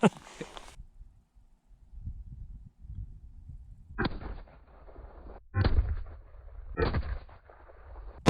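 Rifle shots fired at a melon 100 yards away ring out in a ballistics test: a sharp crack opens the clip, followed by several heavy booming reports with rolling echoes, and there is low outdoor rumble between them.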